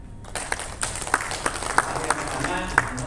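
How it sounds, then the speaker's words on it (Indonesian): An audience at a seminar on wages and labour law applauds with dense, steady clapping that lasts about three seconds, with a few sharper claps standing out. "Tepuk tangan untuk kita."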